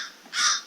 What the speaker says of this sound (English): it's just that distinct caw, caw, caw, caw